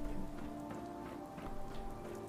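In the video game Fallout 4, steady rain patters on surfaces as a soft, even hiss with faint scattered drops, continuous and fairly quiet, and no one speaks over it.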